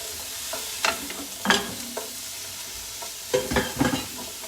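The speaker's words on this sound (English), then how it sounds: "So these vegetables are cooking down a bit" Vegetables cooking down in a pan, a soft sizzle broken by several close stirring scrapes and taps of a spoon.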